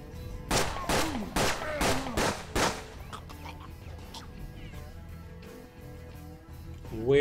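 Gunfire barrage in the turn-based western game Hard West: a rapid cluster of five or six loud, sharp shots in quick succession, then a quieter tail of scattered effects and ambient game sound.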